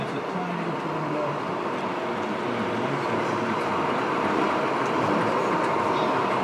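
A steady rolling rumble of a model train running along a model railway track, continuous and even throughout with a faint rattling texture.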